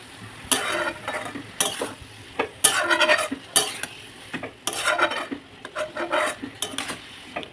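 Curry with salt and turmeric stirred in a pan, a spoon scraping and clinking against the metal in uneven strokes over a faint low sizzle, close by and with no voices.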